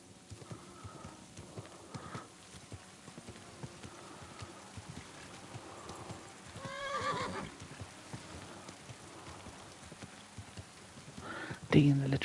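A horse in the video game Kingdom Come Deliverance 2 plods with soft clip-clopping, then gives a brief whinny midway, over a faint buzzing ambience, while people talk throughout.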